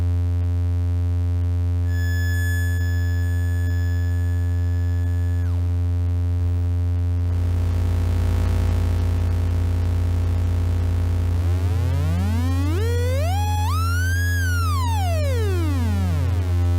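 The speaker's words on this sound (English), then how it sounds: "Oh, you know, the subtle sine waves" Synthesized sine wave tones: a steady high tone over low droning hum, then a deep swelling rumble, then a pitch sweeping up and back down with layered harmonics, loud and alone.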